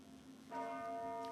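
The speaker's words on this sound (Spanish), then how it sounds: "Las campanas doblan" A church bell in Soria tolls once and rings on with a lingering, fairly quiet hum over faint background noise.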